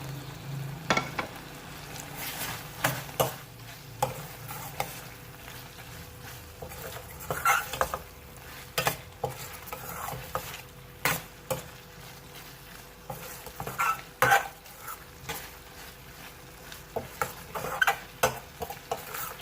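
Chicken jalfrezi with tomatoes sizzles in a pan while a spoon stirs it, giving soft steady frying noise with repeated sharp scrapes and clinks against the pan.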